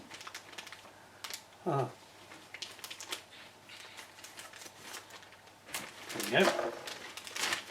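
Fiskars scissors snip down the seam of a plastic bag, a run of short, crisp cuts and crinkles at close range, with someone briefly speaking between them.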